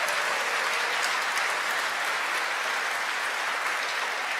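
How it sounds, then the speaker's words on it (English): Sustained applause from a conference audience, dense and steady clapping filling the room throughout with no talk over it. "we will give a special round of applause for the last name"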